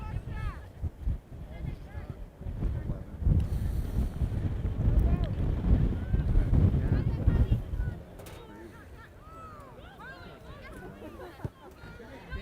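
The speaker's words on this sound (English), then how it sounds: "Wind is picking up." Wind gusts across an outdoor high school girls' varsity soccer field, rumbling heavily into the microphone for several seconds before easing off.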